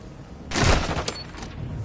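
A short burst of gunfire in the Modern Warfare 2 video game campaign, followed by a sharp single crack and a fading rattle, fairly loud against a quiet background.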